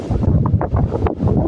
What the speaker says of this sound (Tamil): அலை எப்படி அடிக்குது பாருங்கள்